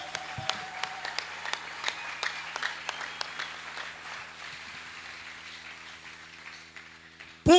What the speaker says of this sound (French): je veux que nous puissions lui donner une acclamation.